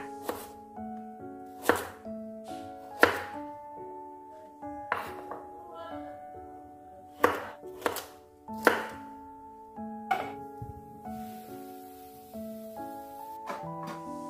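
A knife chops potatoes and carrots into large pieces on a cutting board, giving about a dozen irregularly spaced sharp thuds over soft background music.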